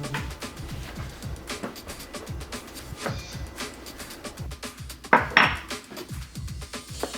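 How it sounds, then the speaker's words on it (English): A Japanese knife chops ingredients for mapo tofu on a cutting board, a rapid, even series of close, crisp knocks going straight up and down, with one brighter metallic clink near the end and no talking. "when we're using our Japanese knives to roll through ingredients like this, we don't want to be doing any twisting or torquing our knife on the board"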